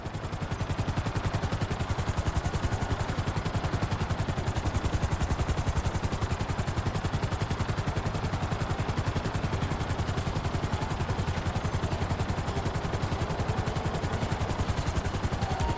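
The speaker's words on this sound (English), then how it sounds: "I need you to hold the chopper above it while I take a look" A helicopter hovers in Grand Theft Auto 5, its rapid, steady rotor chop filling the scene loudly and evenly throughout, with no speech.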